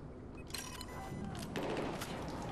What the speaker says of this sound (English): See, I'm getting shot at right there.